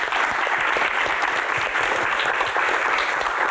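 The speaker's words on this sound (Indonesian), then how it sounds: "Tepuk tangan." A talk-show studio audience breaks into sustained, full applause, a dense even wash of clapping with no voices over it for the whole stretch.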